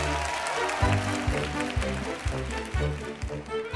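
A television studio audience cheers and applauds as contestants step onto a dating show stage, a continuous noisy crowd swell with rhythmic low thumps and background music underneath.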